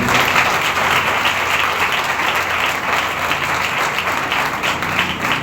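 Steady, sustained applause fills a Sunday holy communion church service, many hands clapping densely and evenly with a low room hum beneath.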